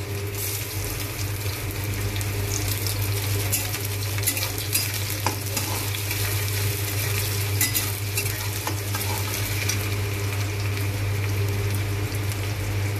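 Onions fry in a pan with bay leaves and sugar, a steady sizzle with a low hum beneath, while a utensil stirs and scrapes the pan now and then.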